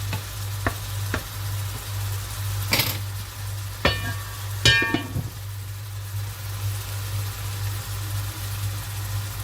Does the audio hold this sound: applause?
no